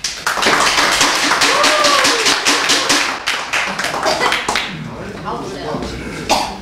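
An audience at a talk claps for a presenter coming up, dense close clapping for about four seconds that thins out, with a cough and murmuring voices mixed in.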